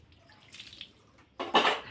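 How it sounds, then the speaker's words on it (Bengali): A metal milk can is washed with water, quiet dripping and trickling followed by a short louder splash and pour near the end. "এই মিল্কেনটা ধুয়ে নিলে ব্যাস শেষ।"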